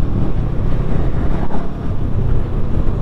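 Heavy wind roars over the microphone during a ride on a Honda CMX500 Rebel motorcycle, a dense, loud and steady rumble that never lets up.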